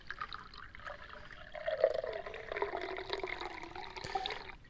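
Water is taken and drunk in the survival game Deadside, a soft, fairly quiet sloshing and pouring sound that swells in the middle and keeps trickling for several seconds.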